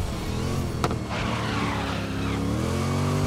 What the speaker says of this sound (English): As I drift because I touched the curb.